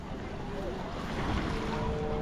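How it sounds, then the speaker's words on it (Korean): Waves wash and surge against the Croatian shore near the sea organ in a continuous rushing roar, mixed with wind buffeting the microphone close by. "파도가 여기까지 치네?"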